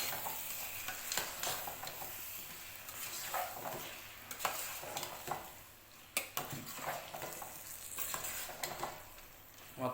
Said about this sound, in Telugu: కరివేపాకు, కొంచెం కొత్తిమీర వేసుకొని తిప్పుదామండి మొత్తం